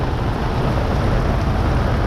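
A heavy rain downpour beats down outdoors around a street vendor's spot, a loud, dense, unbroken roar of water that fills the whole moment with no speech.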